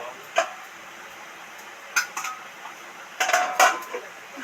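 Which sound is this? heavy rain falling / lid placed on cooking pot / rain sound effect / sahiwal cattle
lid placed on cooking pot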